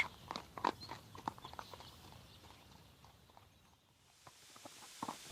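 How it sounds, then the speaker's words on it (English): Several horses walk along, hooves clip-clopping in an irregular, overlapping patter at moderate distance, with a brief lull near the end before the steps resume. "Liedenbrock and Axel are on horses."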